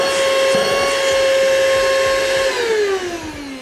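An AstroAI TC3 tire inflator runs in deflate mode with a steady whining motor hum up close, and its pitch sags and slides downward as it winds down at the end.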